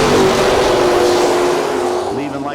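Mopar drag car launching off the line at a drag strip, its engine roaring loudly and rising as it leaves, with a voice talking over it.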